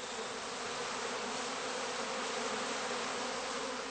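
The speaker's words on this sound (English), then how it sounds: "he shakes the rest of the bees out of the skep" Honeybees shaken out of a straw skep at a heather apiary fill the air with a thick, continuous buzzing hum, steady and close throughout.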